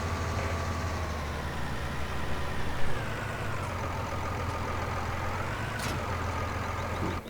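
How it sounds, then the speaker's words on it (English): A tractor engine idles and runs in Farming Simulator 19, a steady, fairly loud mechanical drone with a faint rising tone near the end and no talking. "Go ahead and move this tractor back over here"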